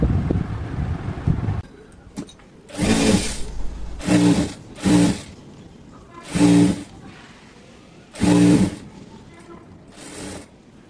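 A sewing machine stitches the lining fabric onto the main fabric of an A-line kurti in six short, loud runs of whirring, separated by pauses, with quieter sounds before the first run.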